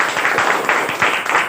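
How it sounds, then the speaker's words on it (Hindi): Audience applause at a Hindi business plan presentation for a life care company, a steady wash of many hands clapping that rises and falls slightly over a short stretch, with no speech over it. "सर के लिए एक बार जोरदार तालियां होनी चाहिए।"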